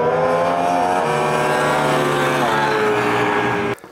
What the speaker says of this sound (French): C'est lundi, entraînement moto.